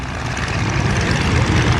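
Propeller airplane engines start and run at the Flying Circus airshow, a loud steady droning roar that holds without pause throughout.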